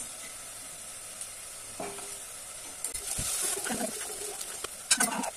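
Onions browning in a pan as chutney spice goes in, a soft sizzle with scraping stir strokes building in the second half, close and moderately quiet, no talking.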